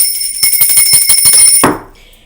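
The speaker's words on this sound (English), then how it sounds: "Where's my bell" A bell rings in a rapid series of about a dozen sharp, bright strikes over a second and a half with sustained ringing overtones, then stops abruptly and fades.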